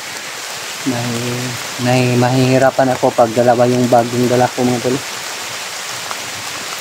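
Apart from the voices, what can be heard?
heavy rain falling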